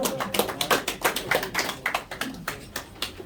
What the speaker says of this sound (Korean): 장기표 대표님 뜨거운 박수로 환영해 주십시오